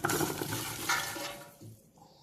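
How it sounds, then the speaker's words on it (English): Vegetables dropped into extra virgin olive oil heated in a stock pot give a loud, broad sizzle and clatter that fades over about two seconds, with no talking. "now I'm going to go ahead and add all my vegetables."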